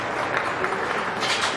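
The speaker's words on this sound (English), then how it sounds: "Compliment them with a good round of applause if you could." Crowd at a county fair swine show gives a brief round of applause, a soft, scattered clapping that stays fairly faint and even, with speech in the clip.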